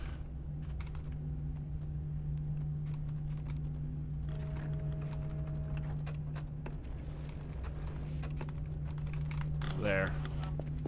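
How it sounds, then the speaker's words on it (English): Keyboard keys clatter in quick irregular bursts throughout, close and steady, over a constant low electrical hum, with a voice briefly speaking near the end. "I'll type in alien a bunch."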